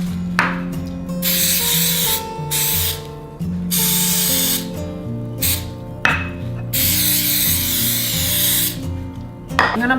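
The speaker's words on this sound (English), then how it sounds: "I have some coconut oil spray." Several short hissing sprays from a coconut oil cooking spray can onto ramekins, close and bright, broken by pauses, over a steady hum with a little background talk.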